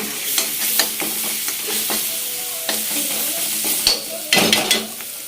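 Cooked rice being stirred into carrots and other vegetables in a pan for vegetable rice, with repeated scraping strokes and a light sizzle, close and steady with a louder clatter near the end.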